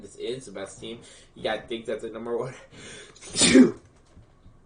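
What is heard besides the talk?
sneeze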